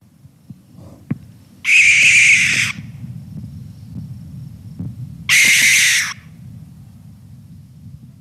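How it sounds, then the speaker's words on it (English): Two harsh, hissing screeches from a barn owl, about a second long each, separated by a few seconds of quiet low rumble. "We'll just give one more listen to that barn owl."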